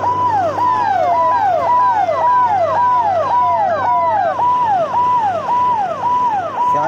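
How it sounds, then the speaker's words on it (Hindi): A loud police car siren wails in a fast, steady repeating pattern close by on a ghat road in India, with traffic rumble underneath. "पुलिस की गाड़ी है पीछे"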